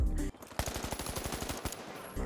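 Light weapon gunfire in the shooter game The Finals: a rapid automatic burst of around a dozen evenly spaced shots, loud and close, bracketed by brief reload and handling sounds.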